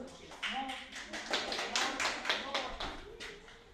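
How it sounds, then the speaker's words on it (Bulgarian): Audience applause at an award ceremony for reciters, a steady run of hand claps from a crowd filling the room, fairly close and continuous, with a few brief voices over it. "Вашите аплодисменти за госпожа Румяна Ковачева."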